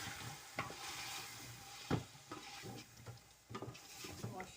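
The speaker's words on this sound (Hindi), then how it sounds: "और ये मैंने टमाटर डाल दिए।" Tomatoes, chili and coriander fry in a pan for chicken korma, with a soft continuous sizzle and a few sharper scrapes of stirring, fairly quiet and with no talking.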